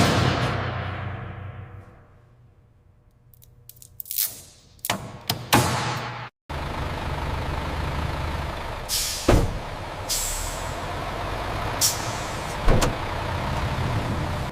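Trucks at a Coca-Cola factory loading dock: engines rumbling near and far, sharp hissing air-brake releases and occasional thumps, with the sound dropping low for a stretch before rising again.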